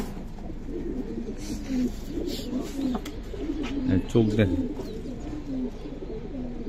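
Giribaz tournament pigeons coo repeatedly nearby while people talk over them throughout.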